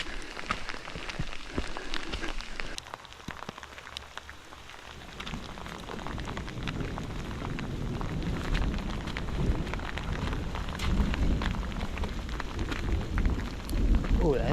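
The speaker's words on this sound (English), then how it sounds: "The rain." Rain falls steadily during a thunderstorm on a hiking trail, a dense hiss of drops on surfaces that thickens and grows louder after the first few seconds, with an occasional low rumble.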